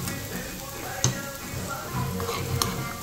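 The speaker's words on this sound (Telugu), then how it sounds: "వెల్లుల్లి గోల్డెన్ కలర్లో వచ్చే వరకు ఫ్రై చేసుకోవాలండి" Garlic fries in a pan until golden, a faint steady sizzle with a few stirring scrapes and clinks.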